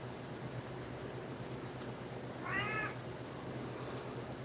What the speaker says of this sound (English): That's my cat, Tasmanian Devil.